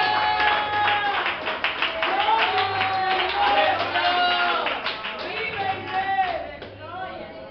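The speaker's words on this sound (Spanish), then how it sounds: "Dale un aplauso, Señor." Inside a church, the congregation claps along with singing and music, a crowd's hands beating in rhythm beneath loud voices, with scattered shouts and whoops.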